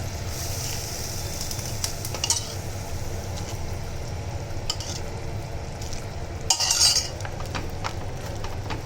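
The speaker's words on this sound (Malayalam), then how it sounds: "ആവശ്യമുള്ള കടല ഇതിലോട്ട് മിക്സ് ചെയ്യാം" Boiled chickpeas being stirred into a Kerala-style chickpea curry in a pan, with steady scraping and clinking of a spoon against the pot over a low sizzle, no talking.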